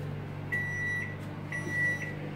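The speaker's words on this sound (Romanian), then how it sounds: "Asta e cuptorul care piuie." A kitchen oven beeps indoors in two pairs of short, clear electronic tones, moderately loud over a quiet room hum, with no talk.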